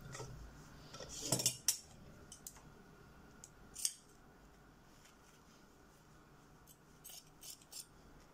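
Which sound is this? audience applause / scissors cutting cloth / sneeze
scissors cutting cloth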